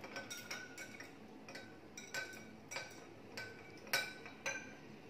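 A spoon clinks against a glass while stirring ginger lemon sherbet made with cold water. About eight sharp, close clinks come at an uneven rhythm, with no talking.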